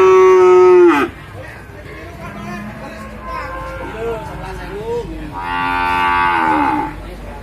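Ongole crossbred (PO) cattle moo loudly at a cattle market, with one long low call, quieter lowing in between, then another sustained moo, all over a market background murmur.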